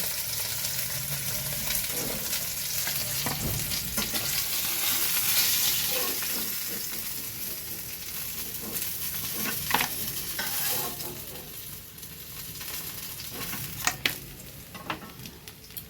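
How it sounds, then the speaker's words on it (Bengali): Fish frying in hot oil gives a continuous sizzle and crackle, with scraping and clinks from turning the pieces that grow sharper toward the end. "মাছগুলো ভাজা আমার হয়ে গেছে।"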